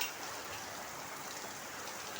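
A dense, even wash of morning rain pours down near a house veranda, a constant close hiss with no breaks or voices.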